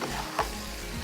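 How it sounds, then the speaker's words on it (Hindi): Tomatoes frying with spiced tawa kaleji in a pan, a dense continuous sizzle close up with a quick stirring scrape partway through, no talking. "टमाटरों को भी अच्छी तरीके से हमने करना है फ्राई।"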